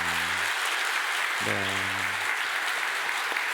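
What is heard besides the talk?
audience applause in church service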